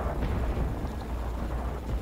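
Fallout 3 combat at a distance, a dense continuous rumble of gunfire and explosions blending into a heavy low roar, with no distinct individual shots.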